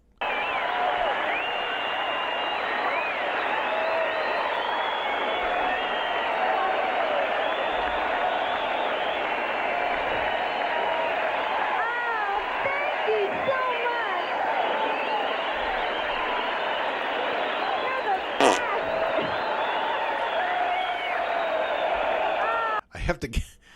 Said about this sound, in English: Yeah, now they're applauding.